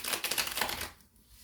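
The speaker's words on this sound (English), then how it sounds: "Let's just shuffle for a minute, get your energy flowing." Tarot cards are shuffled in a rapid, dense run of crisp riffling clicks close up, which cut off partway through and leave near silence.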